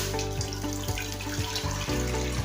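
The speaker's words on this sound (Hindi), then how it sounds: "मैं पानी ऐड करूंगी यहाँ पर।" Water pours steadily into a pressure cooker set on a lit stove flame, a continuous splashing gush that rises in pitch as the vessel fills, with no voices over it.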